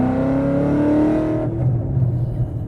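A loud 2012 Ford Mustang Boss 302 V8 engine revs with a rising harmonic whine, then drops to a deep, rumbling idle burble, close and powerful.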